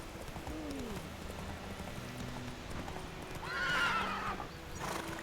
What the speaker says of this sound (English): Este caballo es como medio retrasado, la verdad